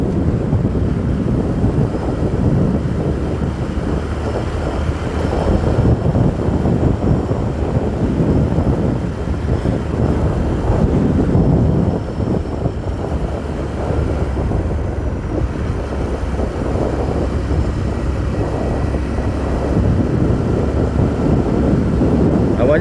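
Fairly strong, cool wind rushes over a motorcycle rider touring through teak forest roads, a constant broadband roar and buffeting with engine and road rumble underneath, loud and unbroken throughout.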